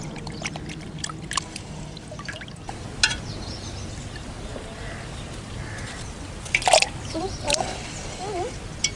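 Aloe vera is rinsed in water with soft drips, trickles and small splashes, quiet and close, with a few louder sloshes partway through.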